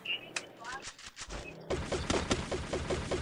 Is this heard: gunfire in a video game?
yes